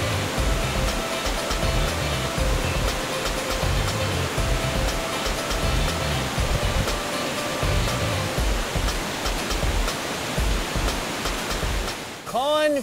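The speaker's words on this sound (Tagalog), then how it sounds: "mas ramdam na ang falls dahil sa malakas na tunog ng tubig." Vera Falls, a clear 35-foot waterfall in Albay, roars with a steady, loud rush of falling water that stays even and unbroken throughout.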